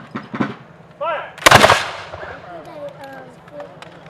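A ceremonial rifle volley salute fired on command at a Dracut Old Home Day gathering cracks out as one loud, sharp report, preceded by a shouted command and followed by lighter outdoor sounds.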